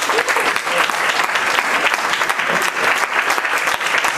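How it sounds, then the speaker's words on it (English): A large audience at an Indian annual music and dance festival claps steadily for a soldier fitted with a prosthesis, a dense continuous applause with a few cheers mixed in, loud and sustained throughout. "Let's give him a big clap"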